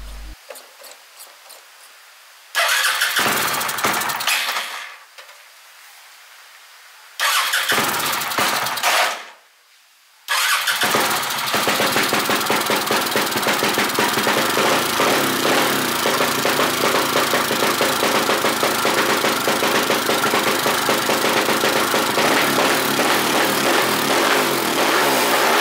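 A small engine fitted with a homemade bamboo carburetor runs loud and close, cutting out briefly twice early on, then roaring steadily without a break.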